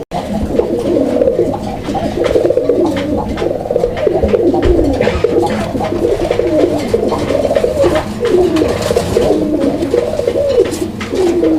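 Pigeons coo over and over in soft, rolling, overlapping calls, close by and fairly loud, with a faint thump in the background.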